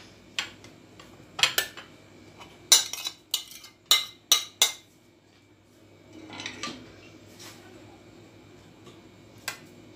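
Boiled salted potatoes being mixed for a salad, a utensil clinking sharply against the bowl in a quick cluster of strokes, then a softer scrape and a final lone tap.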